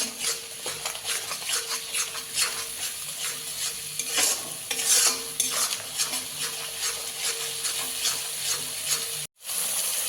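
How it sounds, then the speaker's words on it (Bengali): Spice paste sizzling and being stirred in a pan for a potato crab curry made without onion or garlic, with a spoon scraping and clinking against the metal over a steady fry, then a brief cut to silence near the end. "লবণ দেব মশলাটাকে ভালো করে কষিয়ে নেব"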